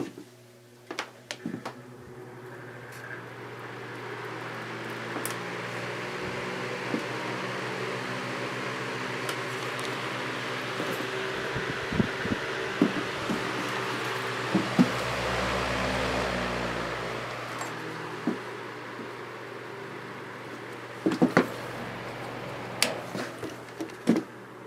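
A Patton U2-1287 counterclockwise electric fan with a Samsung motor runs on high, giving a steady whooshing hum and motor drone throughout, with occasional light clicks and knocks nearby.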